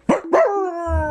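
A human voice imitates a dog, giving two quick, sharp barks followed by a drawn-out whining howl, loud and close.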